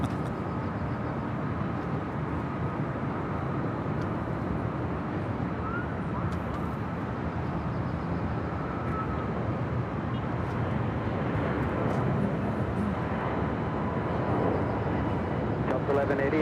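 An American Airlines Boeing 777-200ER heavy departing Los Angeles International Airport gives a steady, broad jet roar heard from a distance, sustained for about sixteen seconds, with airport ambience around it.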